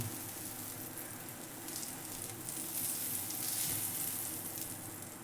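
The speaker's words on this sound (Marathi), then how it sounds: "तवा तापलेला आहे. आता त्याच्यावरती असा बटर लावून घेऊ." Butter sizzles on a hot griddle (tawa) while paneer tikka is being made, producing a continuous, close frying hiss that swells slightly midway, with no voices.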